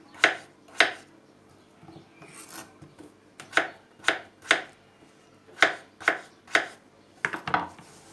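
Potatoes being chopped on a cutting board during preparation of Antep tava, about a dozen sharp knife strikes falling in small irregular clusters, close up and clear, with no talk.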